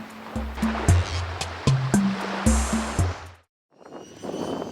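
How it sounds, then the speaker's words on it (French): A tiny ten-seat propeller airplane flying to Choiseul Island drones loudly and steadily in the cabin, its engine tone shifting in pitch, with a brief near-silent dropout before the noise resumes. "C'est un avion 10 places, un tout petit avion"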